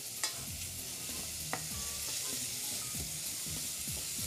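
Onions browning in olive oil for a salt cod pie, a soft even sizzle at low level with a few light spoon clinks and scraping stirs, close by and without speech.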